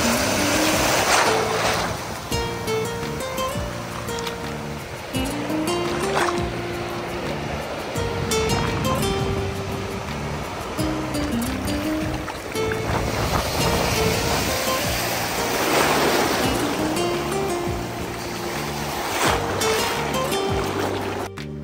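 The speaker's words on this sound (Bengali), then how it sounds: "সমুদ্রের বড় বড় ঢেউ এসে আমাকে ফেলে দিল।" Big sea waves surge and break on the beach at Cox's Bazar after a rainy day, a loud continuous roar of surf with wind buffeting the microphone and swells rising and falling.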